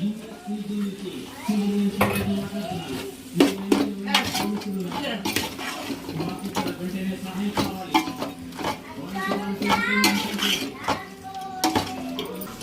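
A spoon stirs gongura into chicken biryani in a metal pot, giving repeated scraping and clinking knocks at an uneven rhythm, heard close up beneath a voice in the background.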